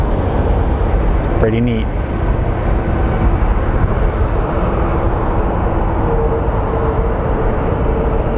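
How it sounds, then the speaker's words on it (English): A United airliner taxiing at Phoenix Sky Harbor airport produces a steady loud broadband engine rumble with wind-like rush, continuing while a person briefly speaks over it. "there's a United that's taxiing faster than the American Air."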